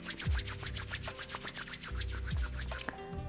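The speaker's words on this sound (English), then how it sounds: "start to place the palms together, rub the hands, create some fire, heat" Open palms rub briskly together in a steady back-and-forth rhythm for about three seconds during a yoga warm-up, a close, dry swishing with soft low thumps, trailing into a quieter end.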